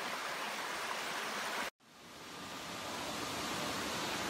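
Water at Kawasan and Cambais Falls in Cebu rushes in a loud, steady, broadband roar, cut off once by a brief break before the waterfall and stream flow resumes just as strongly.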